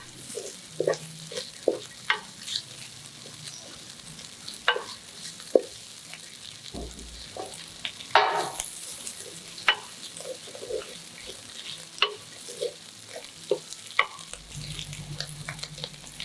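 Bean sprouts sautéed in a pan for fried rice, a quiet ongoing sizzle broken by frequent light clicks and scrapes of a utensil stirring and tossing.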